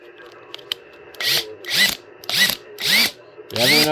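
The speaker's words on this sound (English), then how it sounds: "like this one down here, which is actually a hammer drill" A cordless Ridgid 18V hammer drill, not brushless, revs up in five short bursts, each whining loud and close before spinning down, with brief gaps between them.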